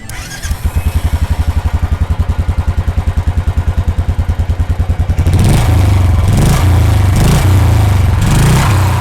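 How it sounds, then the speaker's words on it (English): A Royal Enfield Classic 350 BS6 with a long chrome exhaust idles with a steady, thumping beat, then revs loudly in several sharp surges, close and powerful. "then you get this long chrome finished traditional Royal Enfield exhaust,"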